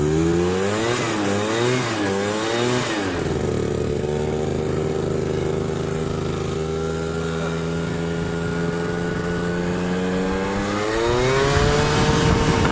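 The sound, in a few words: Aprilia SR 50 motard scooter engine revving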